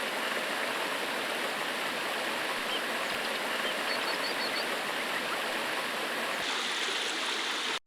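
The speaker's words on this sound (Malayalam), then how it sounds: "ചിപ്പിലിത്തോടിൻ്റെ ഹൃദയഭാഗത്തു കൂടി ഒഴുകുന്ന സുന്ദരമായ തോട്" A stream rushes over rocks at Chippilithodu in a continuous, close, even wash of water that holds steady for the whole stretch before cutting off.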